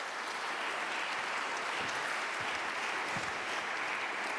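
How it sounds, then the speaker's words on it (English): Steady applause from a conference audience at a co-op congress as speakers come up onto the stage, dense and continuous throughout with no talk over it. "Give me a round of applause as they come up onto the stage"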